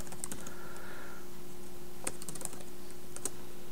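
Keys clack on a computer keyboard in short irregular bursts and single taps, quiet and close, with a faint steady hum underneath and no speech.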